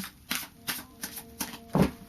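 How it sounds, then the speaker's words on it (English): Tarot cards are shuffled in a soft, quiet rhythm, five or six brisk riffling bursts close by with no talking. "So this is just a final shuffle for you"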